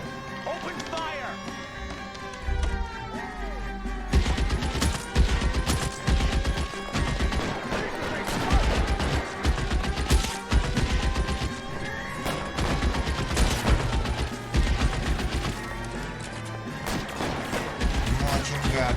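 A shootout in L.A. Noire brings rapid bursts of gunfire and crashing impacts, close and loud, running almost continuously for nearly twenty seconds, with voices heard among the shots.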